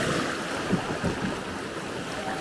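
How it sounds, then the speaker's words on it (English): Bamboo raft riding a river rapid on a jungle trek near Chiang Mai, with steady rushing water and wind buffeting the microphone, plus a few brief louder splashes. "Okay, so this is our last rapid now."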